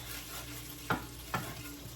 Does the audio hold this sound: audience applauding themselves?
no